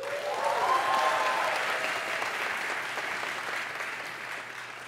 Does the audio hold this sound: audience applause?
yes